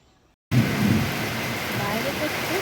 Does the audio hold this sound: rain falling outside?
yes